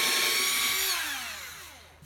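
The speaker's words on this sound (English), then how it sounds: "So now I'm going to use the bit that Milescraft provided and just drill a little pilot hole." A small drill bit supplied with a Milescraft circle jig bores a pilot hole into wood, a single close, loud burst of whirring that starts bright and winds down steadily over about two seconds.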